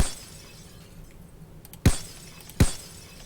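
Glass shattering into shards in a video game, two sharp crashes heard about a second apart, each a loud, bright burst over faint background hiss.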